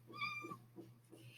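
A house cat meows several times in close succession, a short run of clear, near calls over a steady low hum in a quiet indoor room.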